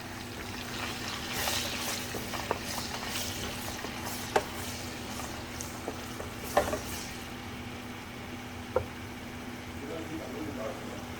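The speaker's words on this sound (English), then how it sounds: "we're gonna put some salt, and then put our onions to fry" Onions frying in a pan with salt give a steady, quiet sizzle. A few faint clicks of stirring come through, along with a low constant hum. A voice talks over it now and then.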